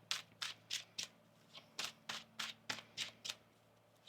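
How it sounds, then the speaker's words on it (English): Tarot cards are shuffled in a rapid run of about a dozen crisp, papery riffling bursts, close and quiet, evenly spaced with brief pauses and no talking. "One more shuffle here."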